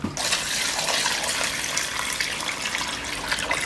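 Settled, clear seawater is poured off the sediment for purging razor clams, giving a steady, continuous splashing gush of liquid, close and moderately loud throughout, with no talk.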